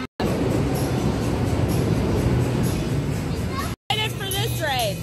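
A boardwalk amusement train rolls along with a steady clatter and rumble while children and adults chatter and call out over it, followed by a short burst of voices after a brief break.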